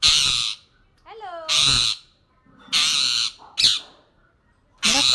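A pet mynah bird gives loud, harsh squawks in short bursts, close by, with a voice speaking between the calls at a household festival gathering.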